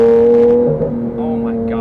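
A Lamborghini Aventador with a loud aftermarket exhaust drones while driving, a strong steady tone that dips briefly and then holds on, loud and close.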